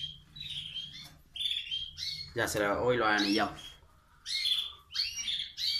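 Several small cage birds in a home aviary chirp and tweet in repeated bursts at close range, with someone speaking in the middle of the calls.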